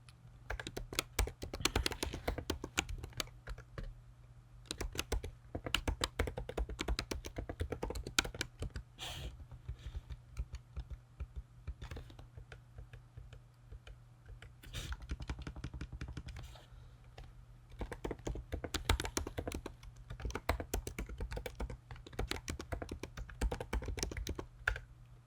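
Continuous typing on a computer keyboard while entering code: rapid clusters of crisp key clicks with brief pauses, close and fairly quiet, running alone for about twenty-five seconds.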